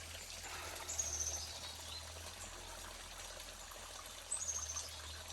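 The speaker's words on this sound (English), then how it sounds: "Here's the creek running down here." A creek in Appalachia runs with a faint, steady trickle heard from a short distance. Two brief, high bird chirps break in over the flow.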